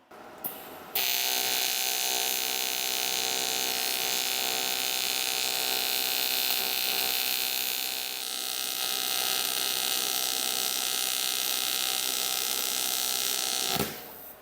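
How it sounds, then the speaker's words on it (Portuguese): An aluminum weld laid with a Lynus LIS 250 AL welding machine gives a loud, steady electric buzz and hiss that starts abruptly, holds for about thirteen seconds with a slight dip midway, then cuts off. "Eu vou tentar fazer uma solda aqui"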